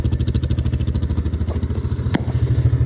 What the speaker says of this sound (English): Actually got the four-wheeler right now.